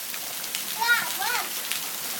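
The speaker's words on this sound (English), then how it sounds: "Dutch, what do you think of all that rain?" Rain falls steadily outdoors as a broad hiss of drops on surfaces, with a voice speaking briefly over it.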